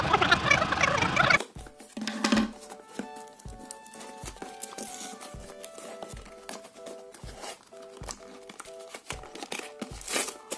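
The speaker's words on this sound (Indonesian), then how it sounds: "Sekarang mari kita unboxing." Packaging crinkles and rustles as a parcel ordered from Alibaba and shipped by Pos Indonesia is opened, with a loud rush of crinkling at first, then scattered soft handling taps and rustles.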